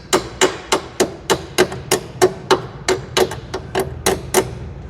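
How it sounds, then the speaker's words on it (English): A small hammer taps a clip into place on a car during strut work, about fifteen sharp metallic strikes in a steady, even rhythm, close and fairly loud. "We're going to use this weird hammer that I have here."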